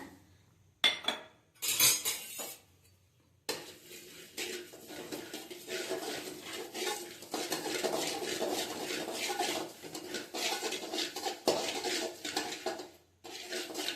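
Poppy seeds roasting in a pan are stirred with a spatula, giving close metallic scraping and clinking that starts with a few sharp knocks and then settles into steady rhythmic stirring.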